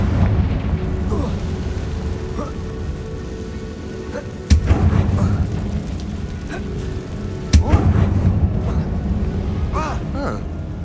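Confringo blasting-curse explosions in Hogwarts Legacy, two sharp loud bursts with rumbling debris and crackle afterwards, set against a low continuous ambient rumble.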